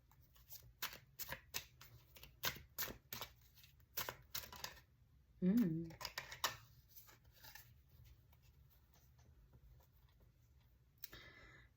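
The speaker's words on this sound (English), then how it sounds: "so let's shuffle" Tarot cards being shuffled up close, a run of quick crisp riffles and taps, then a brief pause and a few softer shuffles, no talking.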